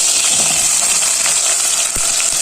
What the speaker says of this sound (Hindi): अब इन सब चीज़ों को हमने भून लेना है, गोल्डन कर लेना है।